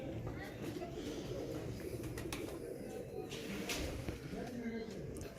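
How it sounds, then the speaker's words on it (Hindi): A Juda bloodline pigeon coos softly in its loft, low faint murmuring calls repeating under a steady background hiss. "ये एक बड़ा शानदार कबूतर आया है।"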